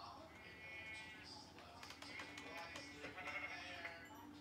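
Sheep bleating in Minecraft, several short game-style bleats repeating at moderate loudness over a busy background of other game sounds.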